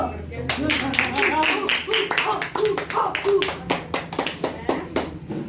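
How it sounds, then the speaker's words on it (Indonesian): A classroom of primary school pupils claps for a presenting group: brisk, uneven applause from many hands filling several seconds, with voices mixed in beneath it. "Berikan aplaus dulu."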